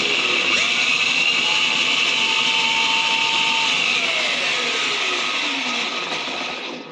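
An electric motor on a home-made six-speed electric dirt bike whines steadily and loud, never reaching full RPM, with tones that shift and glide before the sound eases off at the end.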